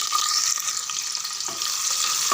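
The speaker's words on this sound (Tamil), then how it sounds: "வெங்காயம் பாதி அளவுக்கு வதங்கினா போதும்." Sliced onions fry in hot oil for chicken biryani, giving a loud, close, continuous sizzle with faint stirring scrapes.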